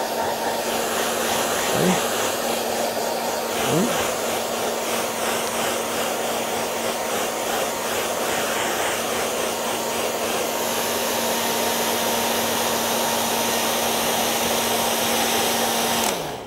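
A hair dryer blows in a loud, steady whoosh with a constant motor hum while drying a watercolour painting, running close and uninterrupted, with a brief spoken word at the start.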